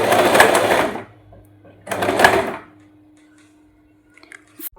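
A sewing machine stitches a fall onto a saree in two short whirring bursts about a second apart, followed by quiet with a faint low hum and a few light clicks at the end.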